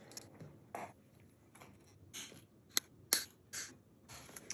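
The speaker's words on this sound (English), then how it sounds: "Let's cut these strings." Guitar strings being cut with cutters during a restring, several sharp isolated snips and clicks spaced irregularly, close and quiet against a faint background.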